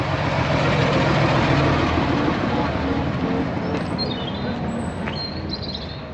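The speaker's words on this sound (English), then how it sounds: "Here's one of the old buses coming along. This one's older than the one I've just seen at the bus stop." An old vintage bus engine rumbles past at close range, loud at first and then fading gradually as it moves away, with a few faint higher squeaks near the end.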